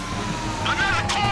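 A police car siren wails briefly in Grand Theft Auto 5 on PS4, a sweeping tone over steady traffic and engine noise, fairly close and loud for a second or so.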